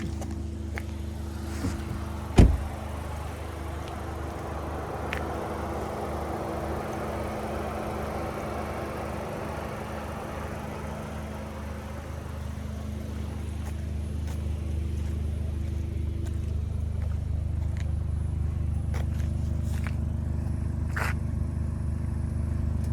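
A Cupra Ateca engine idling at a standstill in the snow, a steady low hum that holds for the whole stretch, with a sharp knock early on and faint ticks scattered over it.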